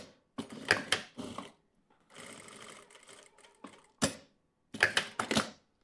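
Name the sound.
sewing machine stitching closed a fabric pouch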